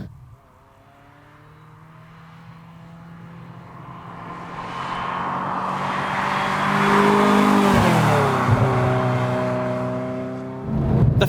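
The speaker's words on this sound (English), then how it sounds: "you of course get a little bit more of that wailing flat plane crank V8 soundtrack" A Ferrari F355's high-revving flat-plane crank V8 wails as it climbs through the gears, rising in pitch and loudness, then drops briefly before surging again, with no one talking.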